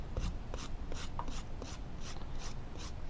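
A clay ceramic form having its surface shaved with a tool, giving a steady series of soft scraping strokes, roughly two per second, close and alone.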